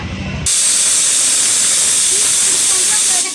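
A pressure cooker boiling chickpea dal with salt and water lets out a loud, sustained steam whistle that bursts in suddenly after a moment and hisses steadily, very close.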